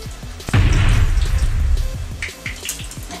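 Water runs from a kitchen tap while torrijas are being made, a loud splashing gush starting abruptly and then easing into lighter trickling and drips, with no talk over it.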